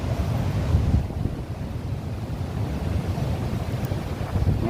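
Sea waves wash onto the shore at Ganpatipule, a steady low rushing roar mixed with wind buffeting the microphone, continuous and fairly faint with no voices.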